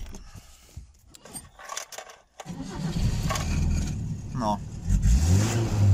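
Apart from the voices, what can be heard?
FSO Polonez car engine starting and revving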